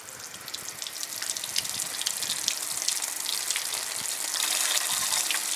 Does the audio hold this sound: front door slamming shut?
no